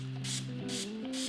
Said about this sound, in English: I'm only gonna do 1 spritz today.